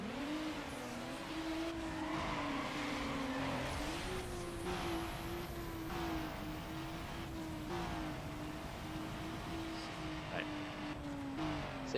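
Car engines roaring through oncoming traffic in Need for Speed Underground: a constant, dense engine drone with pitch rising and settling, tire noise and passing cars sweeping by, steady and loud throughout without pause.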